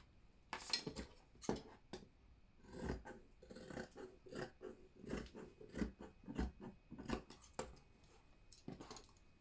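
Scissors snip through Ankara print fabric while cutting a baby dress, a close series of crisp irregular blade cuts and clicks with brief pauses between strokes, no talking.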